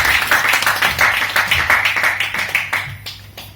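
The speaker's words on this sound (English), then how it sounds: "Please give him a big round of applause." An audience at a Toastmasters officer installation claps in a burst of applause, many hands close and loud at first, then thinning and fading toward the end.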